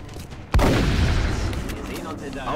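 A sudden loud burst of gunfire in the video game XCOM: Enemy Within erupts and keeps going in rapid, dense shots, with a faint voice underneath.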